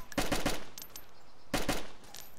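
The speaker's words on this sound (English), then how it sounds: "I'm shooting at somebody." Gunfire in a shooter video game near a school and greenhouse, a sharp burst of rapid automatic shots, a pause, then a second short burst, loud and close.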